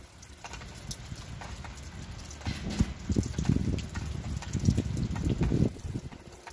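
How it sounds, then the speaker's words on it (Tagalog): Rain patters and splashes steadily, with irregular drips and a soft watery rush that swells louder in the second half. "Minsan nakaka-relax din ang ulan, minsan naman hindi."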